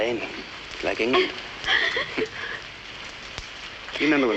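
Steady rain patters continuously at a moderate level beneath intermittent conversation.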